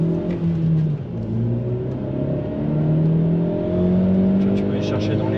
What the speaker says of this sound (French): ça c'est le rupteur. Il est un peu violent.